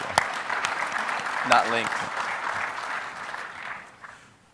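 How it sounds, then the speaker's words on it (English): A conference audience at a VMworld 2012 technical session breaks into steady applause, with a voice speaking briefly over the clapping partway through before it fades out. "I think that on its own is a round of applause."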